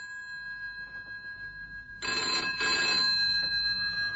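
A telephone in a phone box starts ringing partway through, a sharp bell ring that repeats in short bursts after a faint, quiet stretch.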